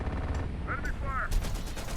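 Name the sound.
gunfire from enemies in the video game Terminator: Dark Fate - Defiance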